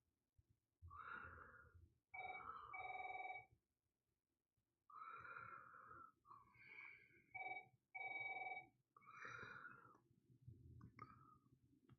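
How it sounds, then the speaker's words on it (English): A house phone rings indoors in a repeating electronic trill pattern, several separated bursts of warbling tones at low volume, with breathing noises between them and no talking. "Oh, just another telemarketer calling my house phone."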